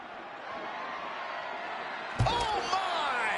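Ambulance doors slam shut with a single loud, hollow bang in a WWE wrestling video game, cutting through steady arena crowd noise and commentary.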